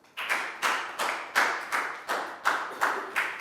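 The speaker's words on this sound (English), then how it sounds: "Big round of applause for Pat, guys." Steady, evenly spaced classroom claps, about three per second, with no talking over them.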